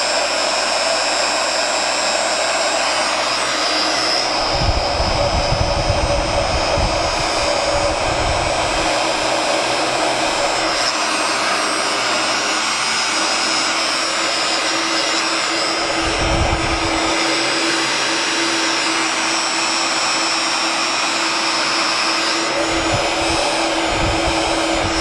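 A Master heat gun blows air steadily with the heat switched on, a loud continuous broadband whoosh with a motor hum that dips briefly a few times.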